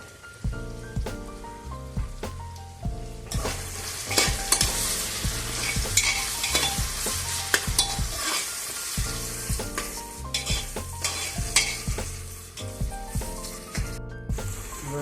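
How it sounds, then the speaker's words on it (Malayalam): Onion, green chilli, ginger, garlic and curry leaves sautéing in a pan for beef mappas, with steady sizzling and frying crackle and intermittent stirring scrapes throughout, close and fairly loud with no talking. "ഉള്ളി പച്ചമുളക് ഇഞ്ചി വെളുത്തുള്ളി കറിവേപ്പില ഇത്രയും സാധനങ്ങൾ വാടിയിട്ടുണ്ട്"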